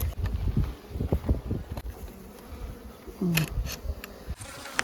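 Bees buzzing close by at a reed hive in short, uneven bursts, a few droning passes with rustling and scattered clicks around them.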